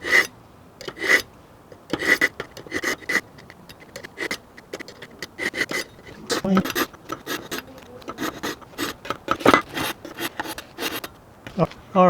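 Budget sharpener working on a Japanese kitchen knife, a series of close, scratchy rasping strokes in quick irregular bursts with short pauses between them.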